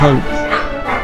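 Dogs bark at night, a short, loud, close woof that falls into a brief whimpering yip.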